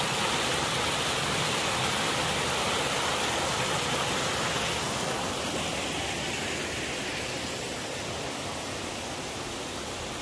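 A waterfall at Sejong National Arboretum pours in a constant, dense hiss of falling water, steady and fairly near, with no voices over it.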